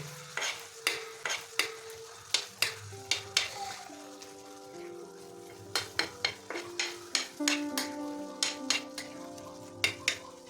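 Tawa chicken liver with garam masala stir-fried over a low flame: a metal spatula scrapes and knocks the pan in a steady rhythm of sharp, close strokes over a soft, continuous sizzle.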